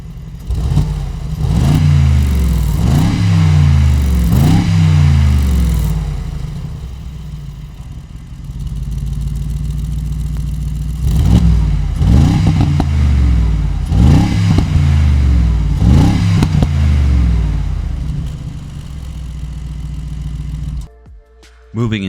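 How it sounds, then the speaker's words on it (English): 2021 Mercedes-Benz G63 exhaust revving repeatedly, several sharp rising blips in two bursts with idle rumble between, loud and close, ending in a brief cutoff. "let's take a listen to that exhaust"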